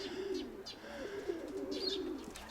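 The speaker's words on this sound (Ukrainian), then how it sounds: "В тумані стоять голуби." Soft, low cooing of pigeons standing in fog, repeating close by, with faint chirps over it and a quiet outdoor background.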